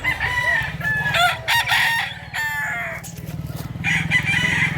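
Several chickens clucking close by as roosters crow loudly over them, overlapping calls from a busy flock.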